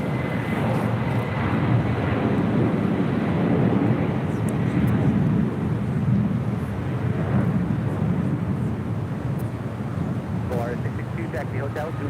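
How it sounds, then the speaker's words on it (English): An Atlas Air Boeing 747-400 freighter departing LAX for Seoul sends out a broad, continuous jet rumble at steady loudness, with faint voices under it. "This is Atlas Air Flight 531 departing to Seoul on a 747-400 freighter"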